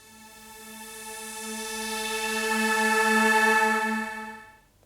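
An evolving, noisy Alchemy synth pad plays a single held octave, rich in overtones, swelling slowly brighter toward a peak before fading out, alone and with no talking.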